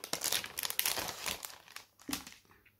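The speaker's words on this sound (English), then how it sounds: "I'm really happy it comes with these resealable plastic bags." A resealable plastic bag holding a photobook crinkles up close in rapid bursts of sharp rustles, pauses briefly, then gives a final few crinkles before going quiet.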